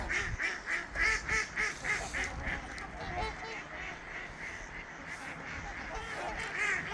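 Ducks quack in a rapid repeating series at a Minnesota lake, loud and fairly close, then settle into a steady wash of wing and water noise as the birds lift off, with someone talking intermittently.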